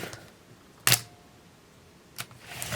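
Pentax ME Super 35mm film camera with a Pentax-M 50mm f/1.4 lens firing its shutter at 1/125: two sharp, close mechanical clicks about a second apart in a quiet room.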